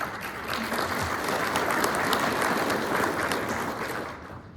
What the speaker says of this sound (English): I'm gonna give you a big round of applause.